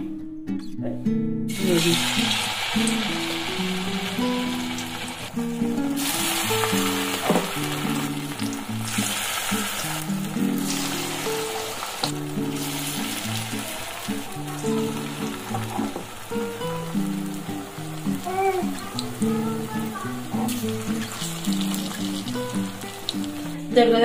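Food dropped into oil heated over a medium flame sizzles loudly and steadily in a pan, with sharp crackles and an intermittent tonal hum running underneath throughout.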